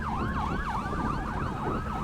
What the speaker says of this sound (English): Sirens rang through the air as police officers filled the parking lot.